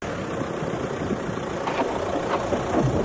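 A tractor engine in a Hindi horror cartoon, stuck with its wheel sunk in mud, runs as a steady, rough, knocking drone at moderate loudness throughout, with no voices.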